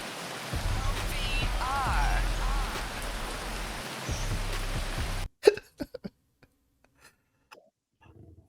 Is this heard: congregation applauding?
no